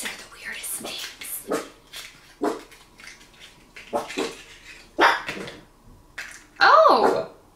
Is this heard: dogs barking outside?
yes